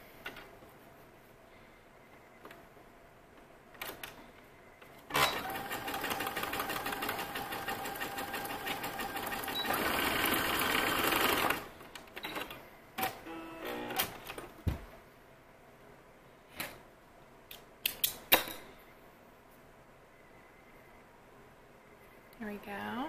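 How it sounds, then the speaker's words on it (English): A sewing machine running a very wide zigzag stitch to join the butted ends of knit elastic, a loud, fast mechanical whir lasting about six seconds, with quiet handling clicks and taps before and after. "I'm going to do a very wide zigzag stitch"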